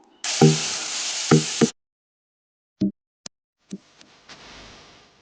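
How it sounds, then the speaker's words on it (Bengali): Mourola fish fry in hot oil: loud sizzling bursts break off abruptly, followed by scattered sharp pops and spatters fading into a quiet hiss. "প্রথমে মাছগুলো ভেজে নিলাম"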